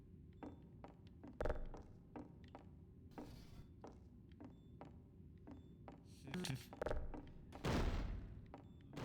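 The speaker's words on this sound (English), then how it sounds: "try tossing all the boxes out the window." Wooden boxes thud and knock in Half-Life 2, with a scattered series of quiet, irregular impacts and a couple of heavier crashes toward the end, no voices over them.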